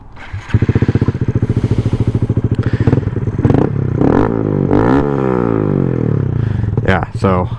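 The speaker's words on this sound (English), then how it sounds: "If you guys want to hear the exhaust, we'll go ahead and start that up next." Honda Grom motorcycle with an Amazon aftermarket exhaust cranks, catches and idles with a loud, close, rapid putter, then revs up and down in rising and falling sweeps, with clattering mechanical noise.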